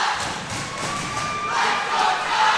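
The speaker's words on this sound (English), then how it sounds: "this is one of the most hyped WXC crowds I've ever seen" A large, roaring crowd at a WXC MMA fight cheers and shouts continuously, the noise swelling louder toward the end.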